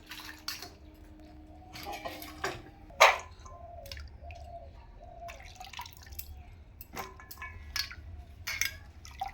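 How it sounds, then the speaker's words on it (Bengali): Raw papaya being washed in water, with irregular drips, splashes and sloshing in a bowl, close and intermittent, plus a couple of louder splashes and no speech. "এটা ভালো করে আমি ধুয়ে নেব।"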